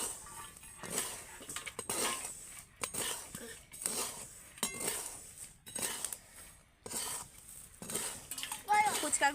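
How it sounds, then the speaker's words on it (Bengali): Fuchka puris stirred while dry-frying without oil, bursts of spoon scraping and clattering against the pan come in rhythmic waves, close and fairly loud, with light clinks. "এইভাবে নেড়ে নেড়ে কিন্তু ভালো করে ফুচকাগুলোকে ভেজে নিতে হবে।"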